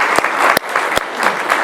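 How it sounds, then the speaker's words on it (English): An audience at a panel Q&A applauds, a loud, dense burst of clapping close by that runs throughout, broken by a few sharper individual claps. "And a round of applause."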